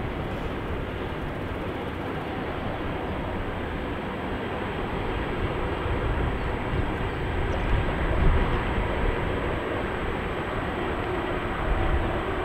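ICE 1 high-speed train passing along the Rhine, a dense, continuous roar that swells slightly toward the middle and holds steady, with no speech.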